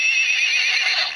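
A horse neighs in a single loud, close whinny lasting about a second, alone with no talk over it.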